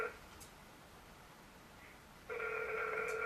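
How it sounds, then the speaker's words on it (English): A phone rings with a steady electronic tone, close and fairly loud, starting partway through after a quiet background of faint tones. "My phone is ringing."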